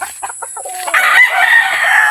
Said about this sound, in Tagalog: Ito yung mga stag natin, maangas na.